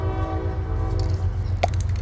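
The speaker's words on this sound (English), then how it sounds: "you're gonna hear a train in my background at this point" A passing train sounds its horn in a sustained, steady blast with rail rumble underneath, loud and continuous throughout without talk.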